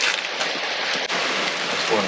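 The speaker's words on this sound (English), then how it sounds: "Wait out this rain. Shouldn't last long." Steady rain falls on a wooded trail during a summer bikepacking trip in West Virginia, a constant close hiss of drops without a break.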